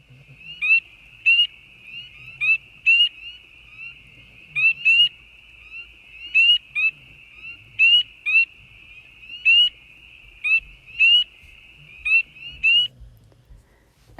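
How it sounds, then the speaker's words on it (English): Spring peeper frogs calling, a series of sharp high-pitched peeps repeating in short pairs at a fairly regular rhythm, clear and alone against a quiet background. "Here's the sound of spring peepers."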